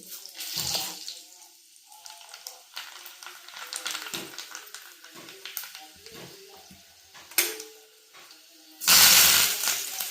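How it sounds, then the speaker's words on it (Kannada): Urad dal and curry leaves hit hot oil for a tempering, giving short crackling sizzles and light kitchen clatter, with a sharp loud burst of spitting near the end. "ಒಗ್ಗರಣೆ ಕೊಟ್ಟಾಯಿತು."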